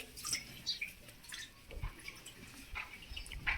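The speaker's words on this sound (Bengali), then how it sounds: "কুড়ি থেকে জল তুলছি" Water is scooped from a tub in a rural yard, with soft splashes, drips and sloshing pulses close by at low volume, and no talking.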